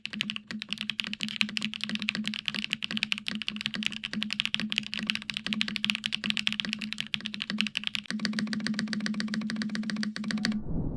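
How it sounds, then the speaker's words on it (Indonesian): Typing on a custom polycarbonate top-mount keyboard with an aluminium plate, a steady rapid stream of close keystrokes, heard alone with no talk. "Dia custom keyboard polycarbonate yang top mount dan pakai plate aluminium."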